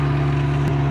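A Ferrari 355 engine runs at a steady idle right at the exhaust tip, a loud, continuous droning hum with one brief blip near the end and no talking.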